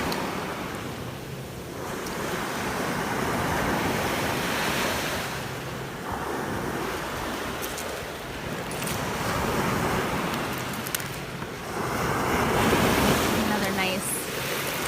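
Ocean waves break on a beach at high tide, rolling in as continuous loud surf with repeated swells and rushes of wind buffeting the microphone.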